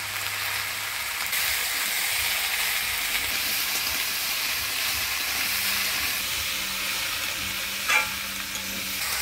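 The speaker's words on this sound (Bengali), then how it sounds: "মশলা থেকে ধুন্দুলটা ভালো করে নাড়াচাড়া করে নিলাম।" Ridge gourd pieces stirred with salt and turmeric in a frying pan, giving a steady broadband sizzle and scraping throughout, with a brief sharper clink near the end; no talking.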